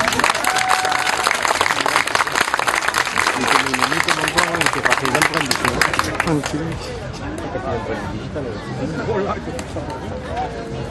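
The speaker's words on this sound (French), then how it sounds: "On peut l'applaudir." Audience applause at a savate boxing event, a dense burst of clapping for the first six seconds that then thins into crowd chatter and murmuring voices.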